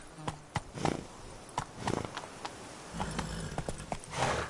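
Horse hooves of Roach clattering in a quick irregular gallop in The Witcher 3: Wild Hunt, Blood and Wine, fairly quiet and close with sharp thuds and scattered rustle between beats, no voices.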